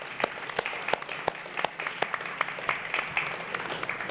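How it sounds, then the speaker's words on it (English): A small audience claps for a panel, a moderate patter of individual hand claps with sharp distinct hits, steady for a few seconds. "Give them a big hand of applause."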